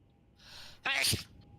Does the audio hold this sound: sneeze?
yes